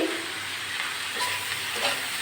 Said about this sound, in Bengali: আমি চাপা দিয়ে সুন্দরভাবে ভেজে নেবো